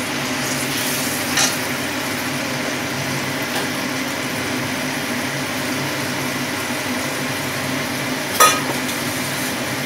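Spices frying in a pan for a Bengali fish curry with yogurt gravy, a steady soft sizzle running throughout with faint stirring scrapes and two brief clinks of a utensil.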